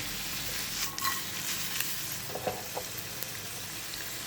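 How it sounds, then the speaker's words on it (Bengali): Paneer pieces fry in a pan with garam masala, giving a steady, soft sizzle with a few faint clicks and scrapes from stirring. No one speaks. "এখন দিয়ে দিচ্ছি পনিরগুলো একটু ফ্রাই করে নেবো।"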